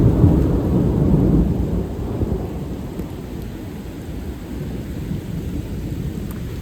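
Heavy rain and thunder over a camping tent, a deep rolling rumble loud at first then easing into a steady wash of rain.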